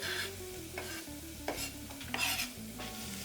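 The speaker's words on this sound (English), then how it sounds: "We're going to get these in there with the onions." Carrots and onions stirred in a hot pan, a spoon scraping and pushing the vegetables in a few bursts over a steady low sizzle, with a faint background hum throughout.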